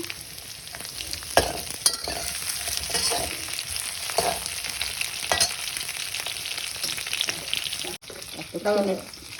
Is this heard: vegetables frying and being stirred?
yes